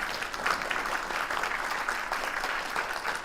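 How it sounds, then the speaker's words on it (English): An audience at a panel discussion on data centers in Fort Worth applauds, a steady, even wash of many clapping hands at moderate volume with no talk over it. "Let's give another round of applause."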